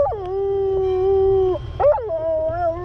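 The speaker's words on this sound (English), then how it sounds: "the dog performs for the people they pass" Dog singing along to harmonica while performing for passersby, two long loud sustained howls with a brief break between, the second rising in pitch at its start, heard alone without talking.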